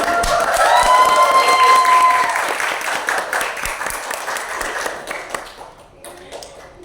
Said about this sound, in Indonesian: Iya, bagus sekali, tepuk tangan.